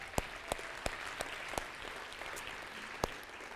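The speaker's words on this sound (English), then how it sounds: "Give a round of applause" Audience at a real estate investors' event giving a round of applause, a steady patter of claps that sounds fairly distant and soft, with a few sharper individual claps standing out.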